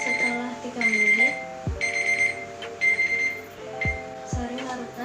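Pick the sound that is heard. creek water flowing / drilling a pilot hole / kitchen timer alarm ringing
kitchen timer alarm ringing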